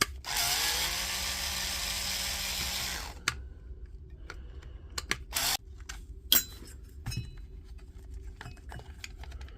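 A power drill or driver whirs loudly for about three seconds while backing screws out of a Milwaukee M18 battery pack, followed by quieter clicks, taps and handling of the tool and parts.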